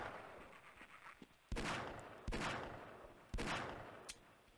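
Gunfire in Half-Life: Blue Shift: three loud, sharp single shots spaced about a second apart, each ringing out briefly, with quieter clicks and game sounds between them.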